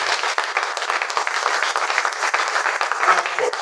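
Church congregation applauding steadily, a dense wash of clapping from many hands filling the room, loud and continuous with no clear pauses.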